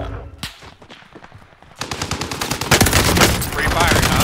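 Video game gunfire in a first-person shooter: sparse scattered shots at first, then dense rapid automatic bursts that grow louder and more continuous toward the end, heard alone without talk.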